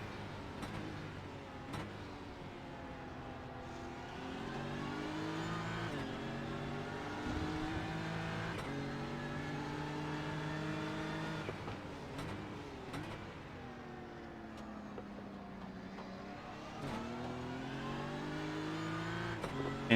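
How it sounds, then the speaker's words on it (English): GT3 race cars, including a BMW and Porsches, in a sim racing game at Daytona, with engines revving and shifting through gears in a continuous, fairly quiet drone. "Jacob Simmons in the BMW with 2 Porsches ahead of him"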